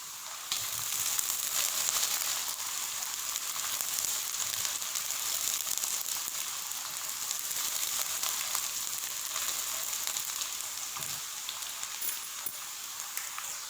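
Whole green chillies frying in hot oil with lightly browned onions for mutton yakhni pulao: a continuous, even crackling sizzle, close but fairly soft, steady throughout with no talking.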